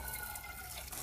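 Tap water runs steadily into a sink as a pan is rinsed in a kitchen, a close, continuous hissing splash with no pauses.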